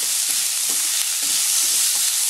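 Carrots are stirred in a pan while cooking for lasagna pasta, a loud, steady hissing sizzle up close with faint, rhythmic scraping stirs underneath and no talking.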